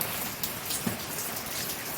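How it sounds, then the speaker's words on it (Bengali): Steady rain falls on a rainy day at home, a continuous close hiss of drops with no talking. "দেখি একভাবে বৃষ্টি হয়ে যাচ্ছে"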